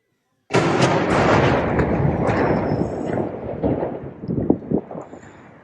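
Anti-aircraft fire during a missile strike on Sevastopol, a sudden loud onset of dense, sustained rumbling and crackling bursts that continue without a break, with sharper pops toward the end.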